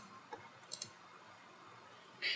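A few sharp, close mouse clicks at a computer while setting up SharePoint in Office, quick isolated taps against a quiet background with a brief brighter click at the end.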